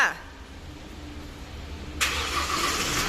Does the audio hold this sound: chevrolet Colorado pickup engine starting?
yes